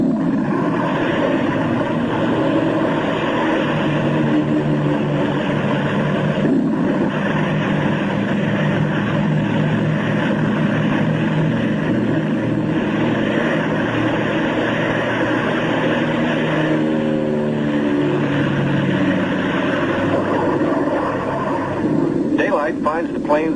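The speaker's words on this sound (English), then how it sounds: "They must risk a takeoff in darkness before the terror of the storm strikes." A propeller aircraft's engines drone continuously and loudly during takeoff in darkness ahead of a polar storm, a thick steady roar filling the whole stretch.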